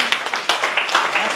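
Audience applause at a speech event, a dense wash of many clapping hands that keeps going steadily with a few sharper bursts, while a voice speaks over it.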